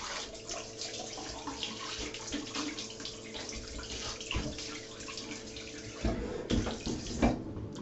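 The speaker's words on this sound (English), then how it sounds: "I rinse it off," Cold water runs steadily from a tap while rinsing a freshly shaved face, a continuous close splashing hiss with small bursts of louder splatter near the end.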